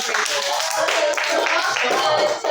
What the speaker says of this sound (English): Give yourself a hand clap.